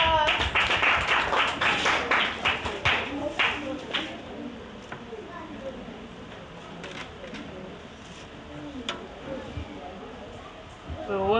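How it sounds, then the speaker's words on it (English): A round of applause at a book event fills the opening seconds with dense clapping that thins to scattered claps, then murmuring voices and soft background chatter follow. "A round of applause."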